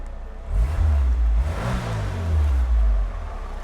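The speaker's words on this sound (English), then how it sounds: "Exhaust sounds good. You can give it gas and it sounds healthy." The 1984 Pontiac Fiero Pace Car's engine revs through its exhaust, rising in a couple of close throaty swells before settling back to a rumbling idle.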